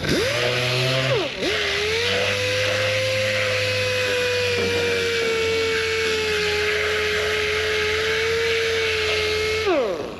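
A DA sander works the bodywork of a 1962 Chevrolet C10 pickup, tilted onto the panel edges, with a steady whining hum that holds for several seconds, briefly dips as the tool shifts, then runs on loud and close before cutting off.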